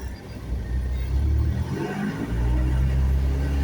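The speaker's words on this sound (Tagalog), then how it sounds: "traffic!" Road traffic rumbles steadily on a drive from Carmona to Clark, with car engines accelerating and revving close by and a low, continuous roar throughout.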